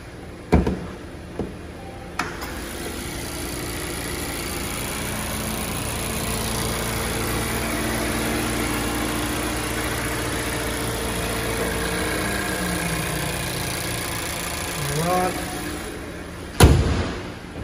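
A 2019 Mazda 2 engine idles steadily with a constant low rumble, heard up close from the engine bay for a long stretch, with a few clicks and thumps at the start and end.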